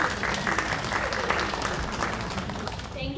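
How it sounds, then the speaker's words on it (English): Steady audience applause fills a theater during a new play festival night, dense continuous clapping from a crowd throughout, fairly even in loudness with no speech over it. "So, by once again, round of applause."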